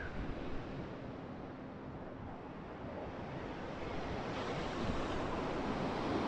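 Waves washing onto an empty beach, a steady broad roar of surf with wind, close and continuous, slowly building toward the end.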